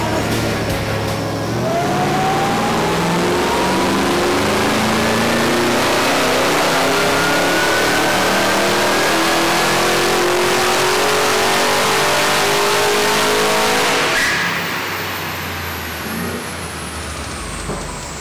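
Boosted Holden VF car engine on a dyno, revving hard through a long rising pull that climbs steadily in pitch, then drops back to a lower drone, loud and close.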